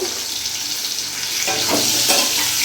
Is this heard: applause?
no